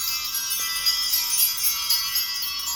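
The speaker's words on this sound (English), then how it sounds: "I want to ring in some bells," Small bells ring in a continuous bright shimmering jingle, with light overlapping strikes and a steady sustained tinkle, alone without talk.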